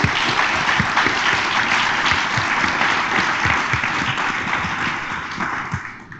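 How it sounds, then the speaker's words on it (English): Room full of people at a Computer Science Education Week kickoff giving a sustained round of applause, dense even clapping with some individual claps standing out, fading slightly at the close. "Let's give them a round of applause"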